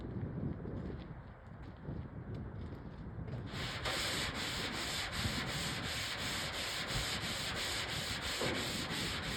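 Primer being sanded by hand on the hood of a 1964 Chevy Impala, a steady close rubbing scrape that grows louder and harsher partway through and continues without pause to the end.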